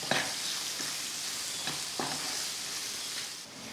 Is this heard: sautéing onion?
yes